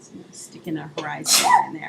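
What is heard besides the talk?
sneeze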